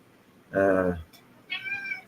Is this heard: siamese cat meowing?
yes